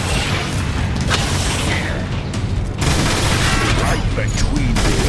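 Grenade fire and explosions in the Transformers War for Cybertron video game, battle in Iacon city: dense booming blasts and gunfire bursts run continuously, loud and close, with a break near the middle.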